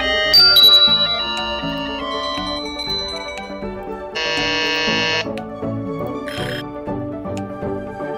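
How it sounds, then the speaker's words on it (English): A ClassroomScreen classroom timer plays its alarm sound, a series of bright electronic buzzer and chime tones in shifting patterns, steady and fairly loud with no talking over it. "You can customize the sound that your timer will produce."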